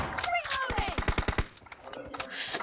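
Automatic gunfire in the video game PUBG rattles off in a fast, loud burst of about ten close shots, followed by scattered further shots and game sounds while someone talks.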